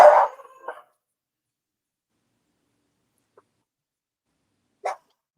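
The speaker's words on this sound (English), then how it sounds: "There goes Jack barking at probably his reflection." A dog barks at its own reflection indoors during a live sale: one loud close bark burst at the start, then near silence and a single short bark a few seconds later.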